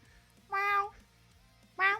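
A cat meows twice up close, a longer drawn-out meow followed by a shorter one, clear and loud over a quiet background.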